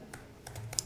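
Computer keyboard typing during a Git merge tutorial, ending in an Enter key press. Soft, close clicks come a few at a time, with one sharper keystroke near the end, and no talking.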